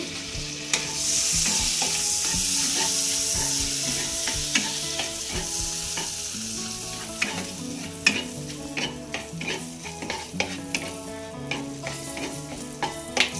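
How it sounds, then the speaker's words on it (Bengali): Tempering of dried red chillies and green chillies frying in a hot pan while a spatula stirs and scrapes, giving a loud sizzle at first and then irregular close clinks and scrapes, with no voices. "ভালো করে ফোড়নটা নাড়াচাড়া করে নিই।"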